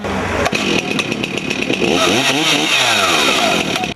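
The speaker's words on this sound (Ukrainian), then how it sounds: "Інші в цей час готують бензопили до розкряжування колоди." A chainsaw being prepared for log bucking at a lumberjack competition runs loud and close, its engine rasping and revving up and down with shifting pitch, then cutting off abruptly at the end, no voices.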